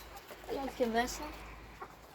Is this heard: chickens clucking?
yes